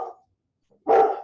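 A dog barks once, close and loud, after a brief faint sound, with no talk.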